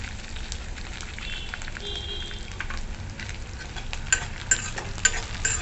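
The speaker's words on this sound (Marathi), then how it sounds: "आता आपण मिरचीचा ठेचा परतवून घ्यायचा त्यात आणि थोडासा कढीपत्ता पण टाकला" Chilli thecha with curry leaves sautéing in a pan, a steady close sizzle and crackle with scraping stirs and a few sharp pops near the end.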